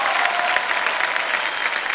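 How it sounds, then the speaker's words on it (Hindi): A brief burst of steady crowd applause, dense clapping from many hands at moderate volume. "तालियां बज जाएं इनके लिए।"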